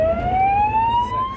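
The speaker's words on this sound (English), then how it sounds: "The ambulance rushes the soldier to the new Queen Elizabeth Hospital." Ambulance siren on a British emergency run carrying an injured soldier to Birmingham's Queen Elizabeth Hospital, a loud, close wailing tone sweeping slowly upward over road rumble.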